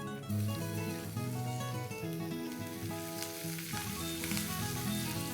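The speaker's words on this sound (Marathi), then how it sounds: "लसूण जरा चांगला फ्राय होऊ देते।" Garlic fries in hot oil with asafoetida and green chilies for a potato-fenugreek dry sabji, a soft steady sizzle sitting under a louder layer of sustained tonal background music.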